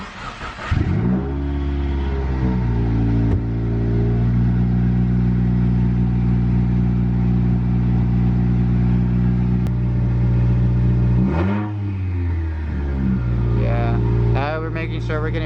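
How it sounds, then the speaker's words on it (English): A 2016 Subaru WRX engine, just fitted with a new DW300c fuel pump, cranks briefly, catches and settles into a steady, loud idle close by, with a short blip of revs near the end and voices speaking over it. "you should be straight to turn the car on"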